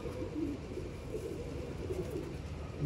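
A pigeon held in the hand gives a low, soft throaty cooing, faint and close, repeating gently over a murmuring background.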